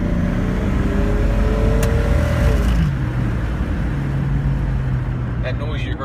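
A 1999 Jeep Cherokee Sport XJ fitted with a Flowmaster exhaust accelerates, the engine pitch rising then dropping at a gear change before settling into a steady drone with road noise, heard from inside the vehicle.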